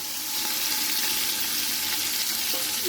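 Coriander and mint leaves frying in oil for biryani, a dense, even sizzle that holds steady throughout, close and loud, with a faint scrape near the end and no talking.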